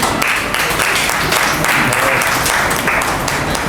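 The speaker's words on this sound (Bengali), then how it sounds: "আর তো হাততালিটা একটু জোরে হোক" Audience applause at an award ceremony, a dense, sustained wash of many hands clapping that stays loud and steady throughout, with no voice rising above it.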